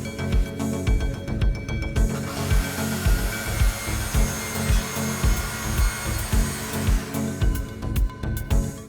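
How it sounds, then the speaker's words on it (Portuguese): Handheld circular saw cutting through wood in a jig for a zero-mark reference, loud whining motor with a denser cutting roar in the middle, heavy rhythmic low thumps throughout, close and alone. "eu vou fazer um corte com a serra para encontrar o marco zero"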